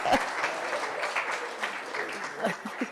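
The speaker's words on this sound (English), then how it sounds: "A round of applause." Audience applause fills a hall at a World AIDS Day launch event, a steady wash of clapping from a crowd with a few louder claps standing out and no speech over it.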